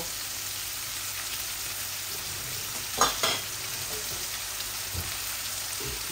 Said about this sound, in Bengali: এই আমার মশলাগুলা ভাজা ভাজা হয়ে গেছে, আমি এখন দিয়ে দিব।